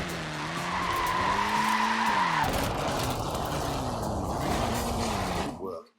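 A Mini's small tyres skidding in Forza Horizon 4, a sustained loud squeal over the engine that shifts pitch partway through and then cuts off abruptly at the end, with someone talking over it.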